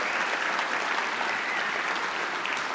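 Dinner guests at a business awards banquet give a full, sustained round of applause, dense and even at a steady level throughout.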